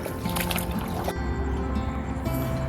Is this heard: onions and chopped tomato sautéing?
no